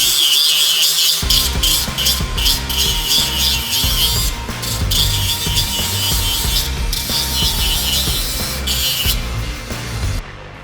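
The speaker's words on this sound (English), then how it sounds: "so we're going to grind a little bit off of her" Metal being ground off a Ford F-350 suspension part, a loud continuous abrasive rasp in rapid strokes lasting about ten seconds, close and alone.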